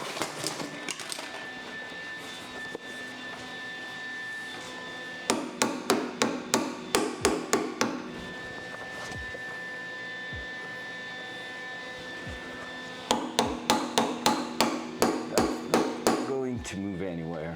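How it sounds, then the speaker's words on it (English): A hammer strikes a thick steel plate for a fabricated car fender brace in a workshop, coming in two bursts of about a dozen rapid, ringing metallic blows each, with a steady machine hum between them. "I'm just gonna try maybe to use the hammer a little bit."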